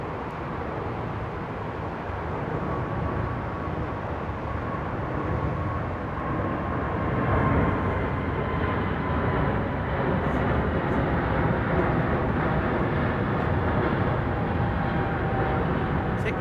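A Saudia airliner flying high over London Heathrow Airport, its steady broadband jet roar holding fairly constant throughout with a faint whine on top, with no talk.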